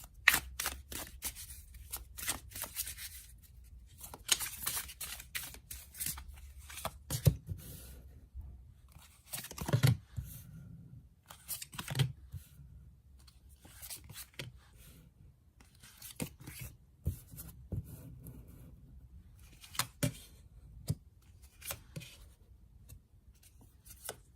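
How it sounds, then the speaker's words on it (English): Tarot cards are shuffled again and again with crisp riffling and soft slaps, irregular bursts close by in a quiet room, no talking. "let's shuffle some cards and gauge this energy for air signs"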